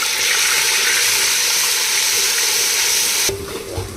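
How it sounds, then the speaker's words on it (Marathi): Onion paste sizzling loudly in hot oil along with cumin and bay leaf, a steady dense frying hiss close to the pan that drops off abruptly near the end. "आता आपण ही जी पेस्ट केलेली होती ही पेस्ट टाकूया कांद्याची"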